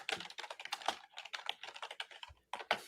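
Fast, furious typing on a computer keyboard, heard close up: dense bursts of clicking keys with a brief pause near the end, and no other sound.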